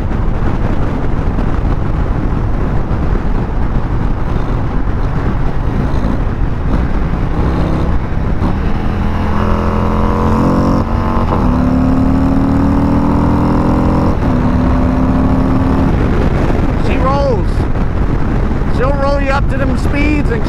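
A 2021 Harley-Davidson Road Glide CVO motorcycle on the move, a loud continuous engine drone with heavy wind buffeting and rising revs in the middle, a rider's voice talking over it.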